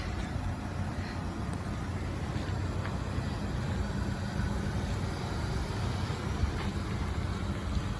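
A Ford Ranger pickup with a stock muffler and no catalytic converter idles steadily, giving a low, even rumble with a faint high whine above it and no talking.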